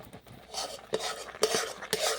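A spoon stirs a thickening raw mango candy mixture in a pan with soft, scraping sweeps and several sharp clinks of metal against the pan, close and fairly quiet, without any talking.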